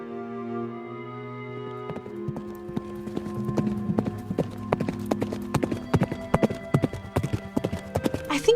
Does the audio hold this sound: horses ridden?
yes